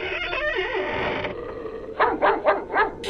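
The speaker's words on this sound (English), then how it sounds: "Tige stopped barking and began to wag his tail." A dog barks several times in quick succession near the end, preceded by a noisy, muffled stretch, with sharp, close yaps standing alone.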